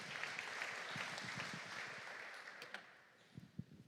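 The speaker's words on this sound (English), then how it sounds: "Give him a welcome applause" Audience applause welcoming a speaker, moderately loud at first, then thinning out and fading, with a few low thuds near the end.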